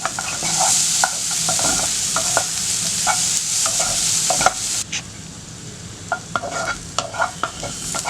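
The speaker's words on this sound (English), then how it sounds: "We are going to saute the onions until they turn lightly brown." Onions saute in a pan with a steady, close frying hiss, broken by frequent clicks and scrapes of a utensil stirring them.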